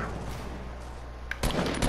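Rifle shots ring out in a Fortnite food-fight match: one sharp crack, then a loud cluster of close gunfire over a low in-game rumble.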